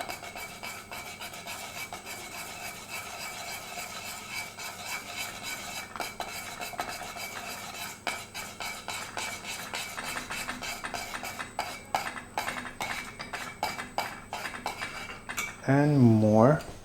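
A spoon stirs cornmeal with sour cream and butter into Ukrainian banosh, a steady scraping and rubbing against the pot that continues for a long stretch, with a brief louder clatter near the end.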